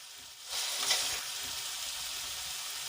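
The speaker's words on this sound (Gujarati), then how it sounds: "આપણું મરચું બળી ન જાય એટલા માટે આપણે હલાવતા રહેવાનું છે।" Chili sizzling in hot oil in a pan as it is stirred, a steady close frying hiss that swells briefly after the start and carries on with no voices.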